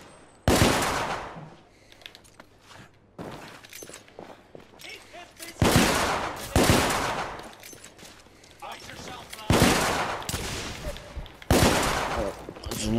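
Gunfire in the video game The Order: 1886, with four loud rapid-fire bursts separated by short lulls, each burst a dense rattle of shots.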